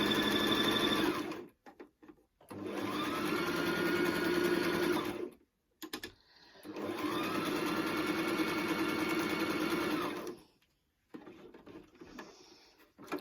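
Brother LS14 sewing machine running zigzag stitches in two steady, motor-driven bursts of rapid needle chatter, each lasting several seconds, with short quiet pauses between and a softer mechanical bit near the end.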